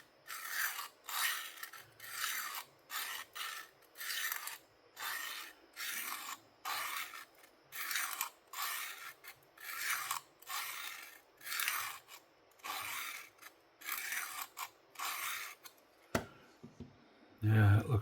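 Rhythmic strokes of a Fox Saturn knife blade drawn across a sharpening stone, about a dozen even rasping passes in steady succession, close and clear, ending with a brief clunk.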